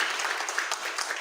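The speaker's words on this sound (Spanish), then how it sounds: "¿Quiere calentar las manos y aplaudir un poquito?" A church congregation claps together, a brief steady patter of many hands under a faint murmur, lasting only a moment.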